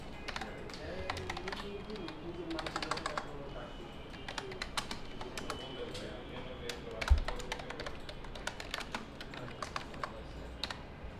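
Someone types on a computer keyboard, quiet irregular clicks arriving in quick bursts with short pauses between them, close but soft, with no voices.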